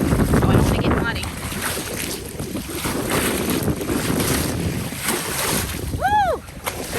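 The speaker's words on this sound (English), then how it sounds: "So listen to the water." Lake water lapping outdoors, a steady close wash mixed with strong wind buffeting, and a short rising whistle-like tone near the end.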